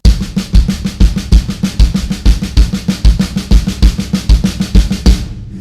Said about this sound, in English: as soon as you invite that bass drum to play against the stick control patterns